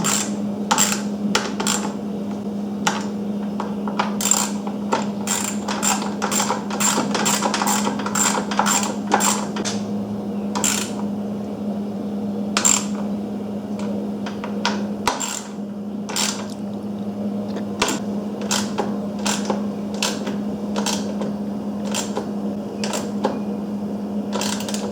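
Bolts on the carburetor cover of a Kawasaki Mule 3010 are tightened with a ratchet, giving rapid clicking bursts over a steady low hum, close and continuous for the whole stretch.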